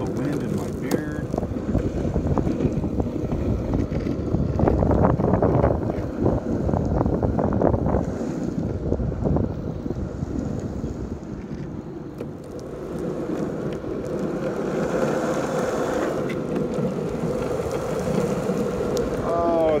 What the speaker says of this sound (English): I'm starting to feel the wind in my beard.